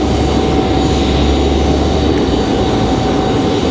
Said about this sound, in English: And I hear an A220.